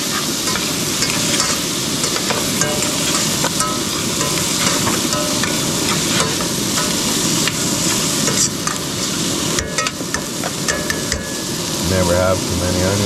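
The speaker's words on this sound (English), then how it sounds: "Onions frying up here." Onions frying in a pan for Cajun chicken soup while camping at Bamberton Provincial Park, a dense steady sizzle with scraping stirs, loud and close, and a low engine-like hum underneath.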